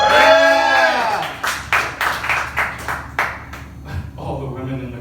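Men in a comedy club audience clap in a short burst of separate claps that fade, following a voice speaking at the start.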